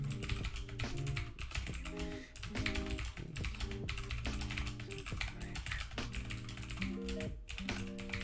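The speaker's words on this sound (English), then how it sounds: "I know my keyboard clicks a lot." Rapid, loud computer keyboard typing, dense clattering keystrokes in quick bursts with brief pauses, recorded close over a steady background.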